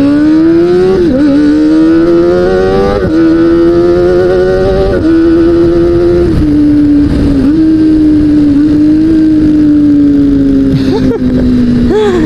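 Kawasaki ZX25R motorcycle fitted with a modified carbon exhaust, revving loud and close in a high-pitched, screaming inline-four wail that rises and dips through repeated throttle blips across the whole stretch, with no talking.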